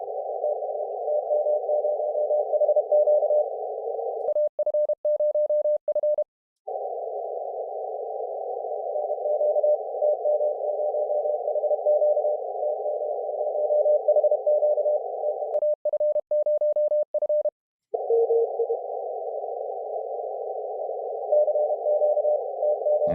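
An amateur radio station calls CQ in Morse code at about 30 words per minute. A steady, loud single-pitch tone breaks twice into bursts of rapid keyed beeps, then resumes.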